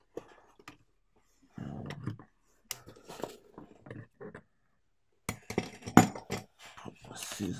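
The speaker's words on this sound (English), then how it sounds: "Put my scissors in there." Metal scissors being handled and set down among clutter on a workbench during a Realacc Flea80 quadcopter build, a series of scattered clinks, taps and rustles with short pauses between them, close and moderately loud.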